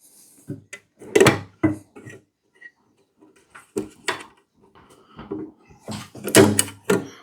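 Drawers slide out of a small metal mini tool box in a series of sharp clunks and rattles, several bursts spaced across the moment, close and fairly loud with quiet gaps between.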